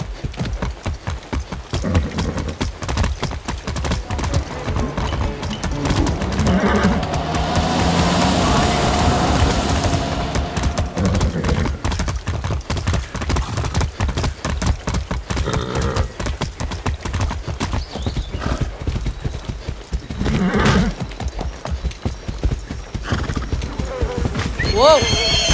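Horse in Far Cry 6 galloping with rapid, driving hoofbeats and loud whinnies, a long continuous run up close, with game sounds and a voice talking over it at times.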